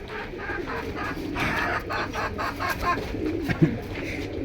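Pigeons coo and flutter at a bustling pigeon market, several birds close by with rooster-like clucks mixed in and a sharp knock near the end, over a low crowd murmur.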